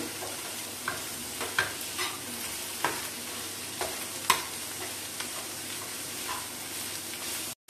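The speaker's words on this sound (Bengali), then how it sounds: "ভিতর থেকে যেটা বের করেছিলাম সেটা দিয়ে দিচ্ছি। একটু ভেজে নিচ্ছি।" Boiled small potatoes and scooped-out pointed gourd filling frying in a pan, a soft steady sizzle with occasional light scrapes and taps of a spatula, fairly quiet and without voices.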